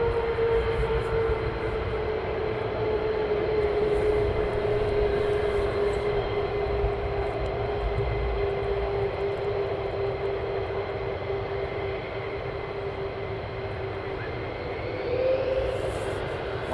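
Military jet aircraft at RAF Lakenheath preparing for departure, a steady distant engine roar with a sustained whine that holds through the whole stretch and shifts slightly in pitch near the end, with no talk.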